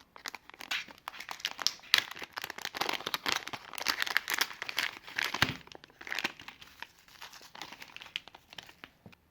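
Plastic packaging around an R503 fingerprint sensor is torn and crinkled open, making a continuous close rustle and crackle with irregular sharp tears over about nine seconds.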